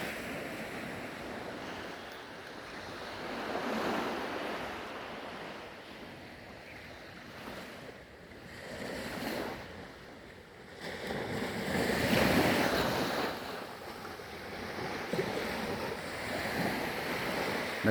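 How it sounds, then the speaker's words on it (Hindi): Ocean waves wash onto a beach in Fiji, rolling surf swelling and fading in long, loud surges mixed with wind rumbling on the microphone, with no voices. "ये है समंदर किनारा।"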